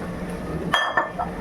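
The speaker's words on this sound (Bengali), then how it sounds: "এই যে বাটিটা ধুয়ে সামান্য একটু জল দিলাম" Washed bowl clinks twice in close succession as a little water is added while cooking mutton, sharp ringing taps over a soft kitchen background with no talk.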